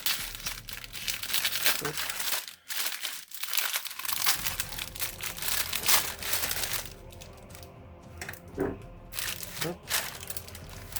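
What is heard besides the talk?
opening plastic packaging of Warhammer Combat Patrol box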